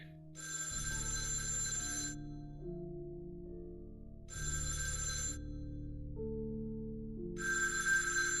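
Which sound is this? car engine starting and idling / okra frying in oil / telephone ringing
telephone ringing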